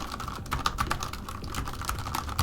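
Fast, steady typing on a Vissles keyboard with its own pre-installed switches gives close, soft, muted clacks in a quick, even rhythm.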